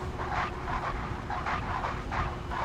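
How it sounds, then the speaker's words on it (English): Dogs barking during a Microsoft Flight Simulator 2024 flight in the Fenix A320, a steady run of muffled, rhythmic barks and yips over constant broadband noise, with no voices. "Sounds like dogs barking."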